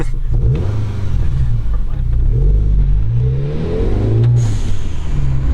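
A car engine revs and accelerates loudly from inside the cabin, pitch rising and falling through gear changes, with a faint turbo whoosh.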